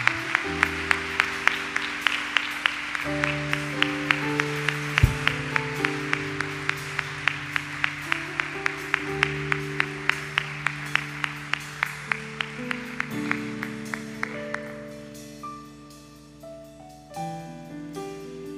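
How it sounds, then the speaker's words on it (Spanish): A church congregation claps loudly in a steady, even rhythm along with sustained keyboard chords during a morning service, the beat holding for most of the stretch before the clapping fades out near the end. "denle un aplauso fuerte al Señor en esta mañana"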